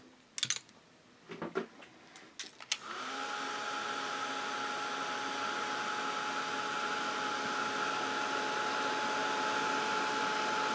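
A hair dryer blasts a steady, loud whoosh with a faint whine while drying blue paint on a craft project, starting after a few seconds of light clicks and handling noises.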